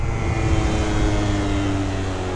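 A scooter engine running on race fuel roars loudly and continuously at high revs, a dense sustained drone with strong low harmonics and no voices.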